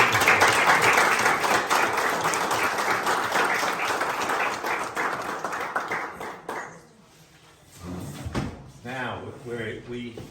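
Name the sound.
breakfast audience applauding an honoree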